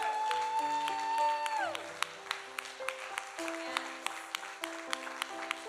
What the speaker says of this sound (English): Come on, clap your hands real loud.